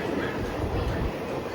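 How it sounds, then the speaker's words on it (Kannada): An express train pulls out of Shivamogga station, a low continuous rumble and rolling rail noise heard from on board, with a voice speaking over it. "ಎಕ್ಸ್ಪ್ರೆಸ್ ಹೊರಡ್ತಾ ಇದೆ ಗಾಡಿ, ನೀವು ನೋಡ್ತಾ ಇದ್ದೀರಾ"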